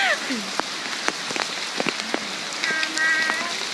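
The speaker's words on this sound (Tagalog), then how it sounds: "I'm walking in the" Rain falls on surfaces outdoors during a walk, a steady close patter with scattered heavier drops and taps, while a faint voice and a few high calls rise briefly over it.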